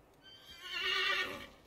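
A single drawn-out horse whinny in Assassin's Creed 3, swelling to a loud peak in the middle and trailing off, heard alone in a snowy game setting.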